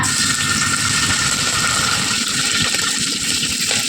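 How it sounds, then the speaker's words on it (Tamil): Marinated chicken pieces dropped into hot oil in a kadai, giving a loud, steady, dense sizzle and hiss that runs without a break from start to finish, with no talking. "சிக்கனை இந்த மாதிரி உதுத்து விட்டு சேர்த்துக்கோங்க"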